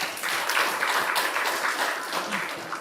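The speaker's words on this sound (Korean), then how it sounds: "우리 하나님께 박수로 감사합시다." A church congregation applauding during a Sunday worship service, a brief full round of clapping from many people with individual claps standing out.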